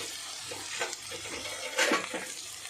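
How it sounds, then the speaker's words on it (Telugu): A spoon or spatula stirring and mixing food in a pan for a simple home-cooked bitter gourd curry, with a few soft scraping strokes and a brief louder swirl near the middle, set against a faint sizzle. "వేసుకున్నాక ఒకసారి కలుపుకుందాం."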